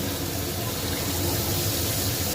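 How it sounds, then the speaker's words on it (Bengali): Water pours steadily into a pan of hilsa fish frying in oil, a continuous close gushing splash with no talk. "এবার একটু জল দিয়ে এটাকে আমি ঢেকে দেবো"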